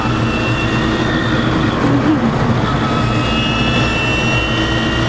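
A homemade electric car climbing a small hill gives a steady whining motor hum with road rumble, sounding almost like an aircraft engine, continuous and fairly loud without pauses.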